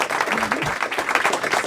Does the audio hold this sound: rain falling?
no